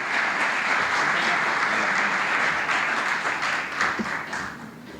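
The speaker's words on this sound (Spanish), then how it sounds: "Le recibimos con un aplauso para escuchar su exposición." Audience applause welcoming a speaker to the stage for a presentation at the Universidad de Concepción, a dense steady wash of many hands clapping that holds for several seconds before easing off at the end.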